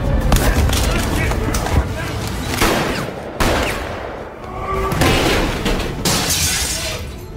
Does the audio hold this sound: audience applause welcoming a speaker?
no